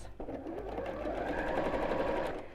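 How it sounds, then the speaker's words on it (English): A sewing machine runs steadily, stitching straight across fabric pieces for a reversible bag, a continuous close motor whir with a rapid needle rhythm from start to finish. "I'm just going to sew straight across."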